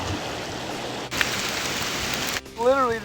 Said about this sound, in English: literally decided to hail really bad, and it's knocking over my drink here.